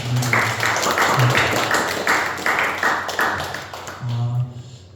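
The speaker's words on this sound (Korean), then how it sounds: "우리 서로를 위해서 박수 한번 하겠습니다" A church congregation at a monthly worship service claps together for one another, a sustained, fairly loud wave of applause that holds steady and then tapers off.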